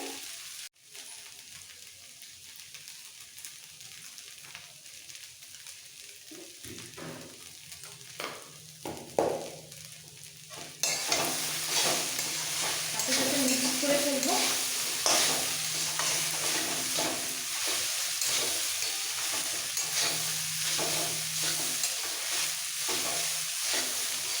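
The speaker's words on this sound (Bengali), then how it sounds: "পেঁয়াজ ভাজার সাথে ভালো করে মিক্স করে নিতে হবে একটু ভেজে নিই" Poha stir-fried with fried onions in a pan, a steady close sizzle that grows louder partway through, broken by regular scraping stirs of a spatula, with no talk.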